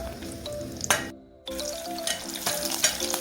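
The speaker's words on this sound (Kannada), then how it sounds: "ಈಗ ಚೆನ್ನಾಗಿ ಫ್ರೈ ಆಗಲಿ." Green chillies cut into three pieces fry in a hot pan with a steady close sizzle, broken by light clinks and scrapes of stirring.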